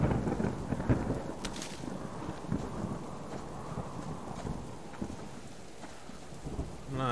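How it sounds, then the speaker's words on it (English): Steady rain pours with rumbling thunder in a thunderstorm within the survival video game Subsistence, a dense continuous wash of rainfall and low rolls with no voices. "I don't think the rain's going to stop anytime soon."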